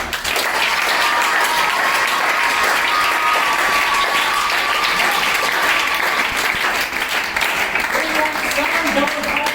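A school education event crowd, boys versus girls, claps loudly and continuously in dense sustained applause with a faint whistle or tone running through, no pause throughout.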